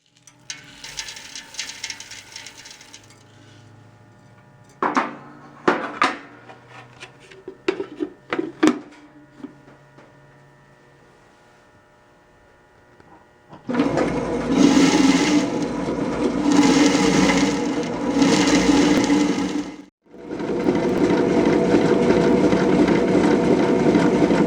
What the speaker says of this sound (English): we can grind our cocoa nibs up to 90 hours to make our chocolate liqueur